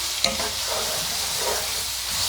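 Chicken fajita filling sizzles steadily in a pan as it is stirred, a soft even frying hiss with light stirring sounds, close and without speech.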